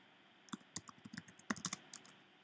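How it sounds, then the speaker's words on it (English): Typing on a computer keyboard while writing a paper in Google Docs produces a quick, irregular run of close, soft key clicks with a few sharper taps, and no voice over it. "So I just start typing my paper."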